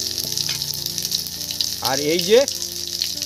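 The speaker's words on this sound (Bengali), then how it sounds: "হিং এই তেলের মধ্যে দিয়ে দিলাম, হালকা হালকা জাল দাও" Asafoetida hits hot oil in a pan with a continuous crackling sizzle, while someone speaks briefly over it, her voice rising in the middle before the frying carries on alone.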